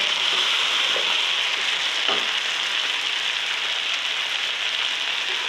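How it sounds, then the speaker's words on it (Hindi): Chicken and potatoes frying in a pan for pulao, a dense, even sizzle like steady rain, loud and close, with a couple of faint stirring clicks and no talk. "चिकन भुन रहा है"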